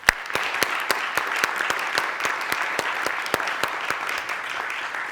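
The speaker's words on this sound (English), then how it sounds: "Big round of applause" An audience at an awards ceremony claps steadily for several seconds, a dense wash of many hands with some sharper individual claps standing out, fairly close and alone without talk.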